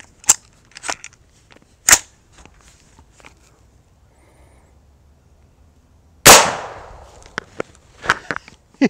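An AR-15 rifle firing black powder cartridges gives a few sharp, isolated cracks with quiet gaps, one much louder close shot followed by a ringing decay, then faint clicks and handling noise.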